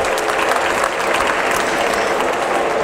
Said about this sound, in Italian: un grande applauso anche a lui